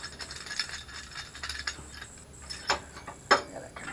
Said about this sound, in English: Gotta compress the caliper.